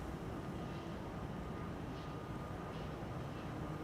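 A Turkish Airlines jet departing Amsterdam Schiphol gives a faint, distant, steady broadband roar that stays even throughout, with no voices.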